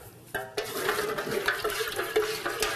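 Hot melted candle wax with colour flakes is stirred in a pot, producing brief close scraping and swishing strokes with soft knocks against the container.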